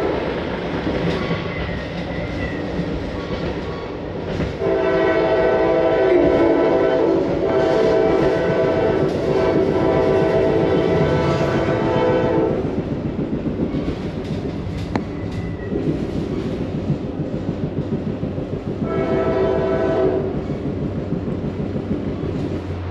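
A Metra North Central Service commuter train pulls out of Rosemont station with a loud steady rumble and rolling clatter, and the horn sounds twice in long blasts, close and continuous throughout.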